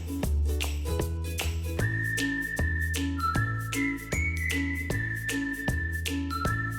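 Pressure cooker whistling on high flame while cooking goat tripe with turmeric, salt, oil and water, a loud sustained whistle over repeated rhythmic rattling pulses, with no talking.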